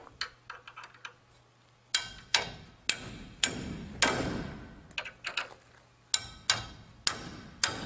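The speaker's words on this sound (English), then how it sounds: "This also doubles as a hammer." Sharp metallic hammer strikes from a tool used as a hammer while assembling a dock end ramp kit with saddle stringers, about a dozen irregular blows, some in quick pairs, close and loud over a faint steady hum.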